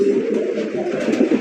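Bombay pigeons kept on a farm coo continuously and close, a loud low throaty burbling that fills the short moment without pause.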